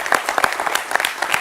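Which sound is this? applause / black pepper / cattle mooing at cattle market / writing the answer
applause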